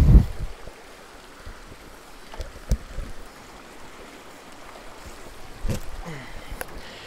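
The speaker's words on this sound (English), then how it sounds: "river crossing" Water splashing and sloshing during a river crossing in the woods, a steady low wash of flowing water broken by a few brief louder splashes near the start and end, close by with no talk.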